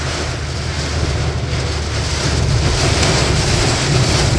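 A steady, loud roar of heavy rain and gusting wind in a storm on the Mumbai-Pune Expressway, dense and continuous throughout with no voices.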